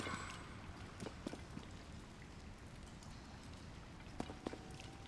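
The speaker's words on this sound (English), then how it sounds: "It's raining outside currently." Soft steady rain patter in the video game The Legend of Zelda: Tears of the Kingdom, with occasional sharper drips and taps, fairly quiet and continuous, no voices.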